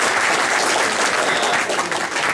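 Dense, steady applause from an audience greeting docent Anne Jäkäläniemi at a public talk, a continuous wash of many hands clapping at even loudness with no voices over it.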